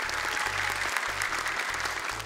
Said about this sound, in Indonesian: Tepuk tangan dong untuk Naja.